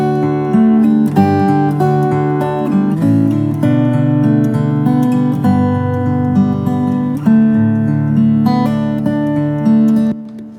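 Fingerstyle acoustic guitar playing melodic picked notes over bass lines, processed with compression and added effects, full and steady for about ten seconds before ending with a ringing decay.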